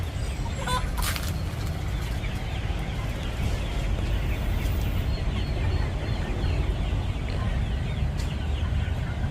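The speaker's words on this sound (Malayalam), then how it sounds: "ഇതെന്താ ഒരു പ്രത്യേകം തരം കോഴിയോ?" Chickens clucking beneath a steady, loud broadband noise, with a few brief sharper calls near the start.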